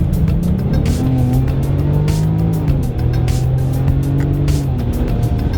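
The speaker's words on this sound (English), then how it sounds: "You can hear the supercharger, and the power output is very linear." Supercharged 2018 Range Rover Velar P380 engine accelerating hard in dynamic mode, a loud, steady drone with rising tones and a supercharger whine, heard up close from inside the car with no talking.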